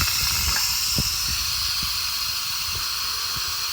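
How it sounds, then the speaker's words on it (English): Steady, loud hiss of steam venting from an Instant Pot Ultra on quick release, continuous throughout with a few faint knocks and clicks underneath. "The steam goes everywhere."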